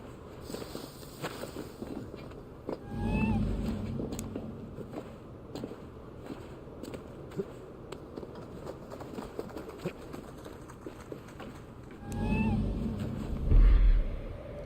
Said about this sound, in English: Ah, I found a kitty.